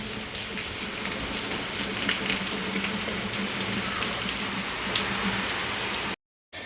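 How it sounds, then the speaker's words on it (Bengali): Heavy rain pours down steadily during a Kalbaisakhi storm, a dense, close and loud hiss of drops beating on surfaces. It keeps up without a break for about six seconds and then cuts out abruptly. "জোর বৃষ্টি শুরু হয়ে গেছে"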